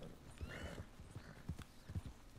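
Horse hoofbeats clop in a steady trotting rhythm during a ride in Red Dead Redemption 2, faint and fairly close, with no talk over them.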